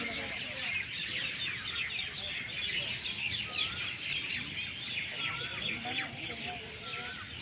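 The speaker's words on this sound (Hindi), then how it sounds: "यहाँ आप चिड़ियाओं की आवाज़ सुन रहे होंगे।" Several birds chirp and tweet on a university campus, with busy, overlapping calls and an occasional squawk, fairly faint in the open air, while a person talks quietly underneath.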